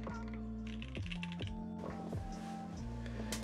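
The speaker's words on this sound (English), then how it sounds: "typing at this is not stiff for me" Typing on a Nemui keyboard with Alpaca switches and a brass leaf-spring top-mount plate, a close, steady stream of quick keystrokes with deeper thocks and occasional spacebar hits, with no talking.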